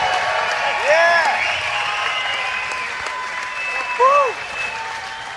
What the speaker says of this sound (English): Listen to the crowd go wild here.